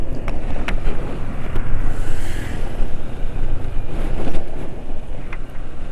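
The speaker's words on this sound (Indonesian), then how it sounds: "Suara mesin halus ya." A motorcycle engine runs on Total Hi Perf 4T 900 oil, giving a steady, smooth, continuous drone with a low rumble and faint wind noise, with no talking over it.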